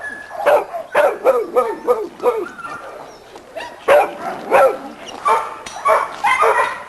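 Dogs in a dog yard bark close and loud in quick repeated bursts, with yips and whimpering between barks, in an uneven rhythm throughout.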